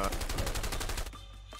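Rapid automatic gunfire in the video game A Way Out, a steady loud burst of about a dozen quick shots that stops abruptly and leaves a quieter tail.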